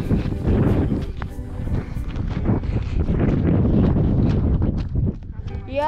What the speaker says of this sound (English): Yep, this is the wind.